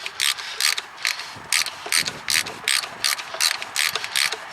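Ratcheting clicks from a wrench driving a bolt into a cast alternator bracket, coming in repeated close bursts of rapid pawl ticks with short pauses between strokes, no talking.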